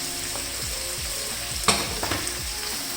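Chicken fries with salt in a karahi, a loud, close, continuous sizzle broken by a few knocks and scrapes of stirring. No voices.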